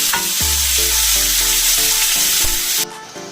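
Pork fries hard in a pan, a loud, dense sizzle heard up close with repeated rhythmic scraping and stirring strokes over it, cutting off abruptly near the end.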